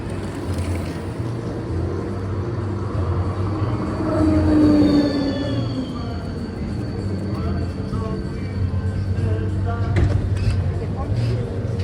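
A tram rumbles through an enclosed underground station in Linz, Austria, with a steady low drone, a brief squeal of wheels midway, and echoing background chatter.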